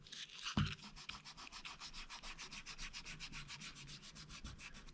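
A pencil animation drawing on paper is rubbed down by hand in quick, steady back-and-forth strokes, close and soft, after a single light knock at the start.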